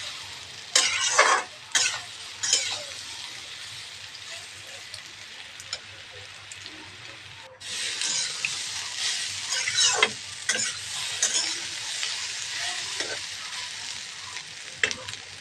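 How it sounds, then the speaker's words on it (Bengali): Soybean chunks frying in a pan, a steady crackling sizzle with scraping stirring strokes breaking in irregularly, close and continuous. "এবার আমি সয়াবিনটা ভালো করে ভেজে নেব।"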